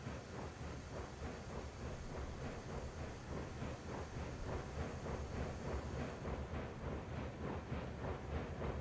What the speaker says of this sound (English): It is a pretty heavy train